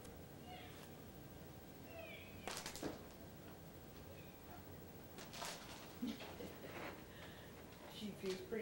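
A cat meows several times indoors, short and fairly faint, over a low background hum, with someone talking in between.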